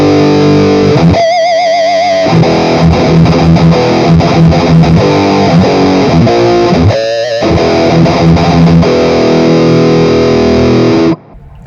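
Heavily distorted electric guitar through a LEKATO Tank G multi-effects unit using a Marshall 1960 cabinet simulation with V30 speakers: loud, gnarly chugging riffs and sustained chords for about eleven seconds, then a sudden stop.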